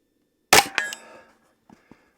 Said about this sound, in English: I'm just going to shoot like 5 shots.